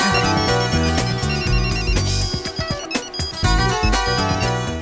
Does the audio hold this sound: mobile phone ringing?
yes